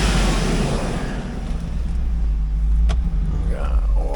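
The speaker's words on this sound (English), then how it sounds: "That fan clutch doesn't want to give up." A 2004 Hummer H2 with an LQ4 engine idles steadily, a loud, constant low rumble joined by the whoosh of an engaged fan clutch moving air, heard close and without interruption.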